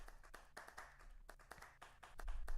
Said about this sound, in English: if everybody can give a round of applause to MetaCoach